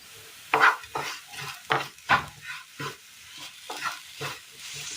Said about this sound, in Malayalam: ഉലർന്ന് വാടി കിട്ടുന്ന ഈ സമയം ഇതിലേക്ക് വറുത്ത് വെച്ചിരിക്കുന്ന തേങ്ങ ഇട്ട് കൊടുക്കാം